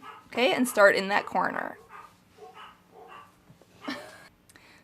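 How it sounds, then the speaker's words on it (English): Small dogs barking indoors, a few sharp yips and barks at mid distance, mixed with and following a woman's nearby speech. "Sorry about my dogs barking"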